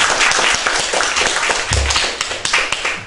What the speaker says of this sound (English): I was going to give a round of applause.